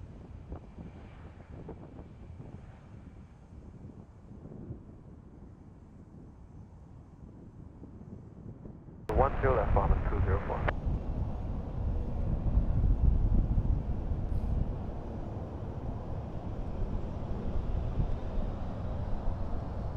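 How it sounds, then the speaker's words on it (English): A Boeing 787 Dreamliner's engines roar up suddenly and stay loud and rumbling with wind buffeting the microphone, a steady powerful takeoff thrust from nearby. "That's a 787-9 Dreamliner."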